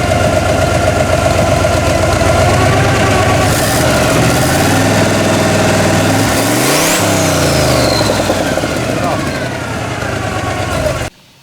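Turbocharged 1979 Chevrolet Suburban engine revving hard near the microphone, rising and falling through several throttle blips with turbo whine sweeping upward before it cuts off, voices talking underneath.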